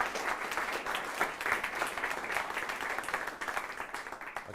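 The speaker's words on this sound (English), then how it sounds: "thank you for the applause" An audience in a university hall at an evening talk applauds, a dense, steady patter of many hands clapping, moderately distant and continuous without voices.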